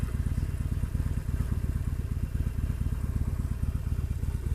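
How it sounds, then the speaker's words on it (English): A motorcycle engine idles close by in a steady low throbbing rumble with a fast even pulse, holding at constant loudness throughout and heard alone without speech. "I'm just going to turn off the engine."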